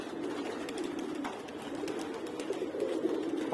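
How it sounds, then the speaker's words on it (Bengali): Domestic pigeons coo near their loft, low throaty rolling calls repeating over a soft bed of ambient noise, close and clear with a few faint chirps from other birds. "এই যে কবুতর গুলো, এই যে মুসলি করতেছে কবুতর।"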